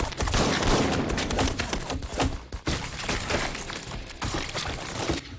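Dense gunfire from a shootout scene in the Watchmen TV series, loud rapid volleys of shots and impacts that continue almost without pause.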